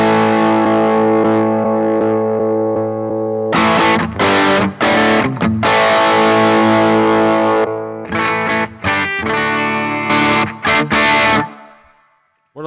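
Electric guitar run through a distortion setting on a Headrush pedal, a sustained gritty chord ringing out, then choppy bursts of distorted strums with short gaps between them.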